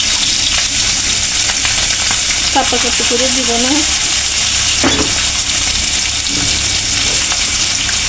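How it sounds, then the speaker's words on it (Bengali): Small puti fish fry in hot oil in a large wok, with a loud, continuous sizzle and crackle throughout and a brief spoken remark partway through. "তাহলে মাছগুলো দিয়ে দিচ্ছি, এগুলা মচমচে হোক"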